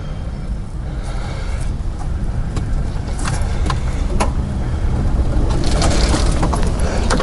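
A large mobility scooter fitted with a canopy and golf cart tires rolls in reverse, giving a steady low motor hum with faint mechanical clicks and rattles, growing slightly louder toward the end.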